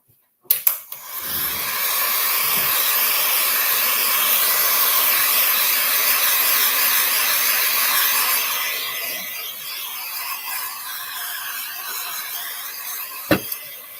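A hair dryer drying a craft project in an art workshop blows as a steady close whooshing roar for about eight seconds, then trails off, with a sharp knock near the end and no talk.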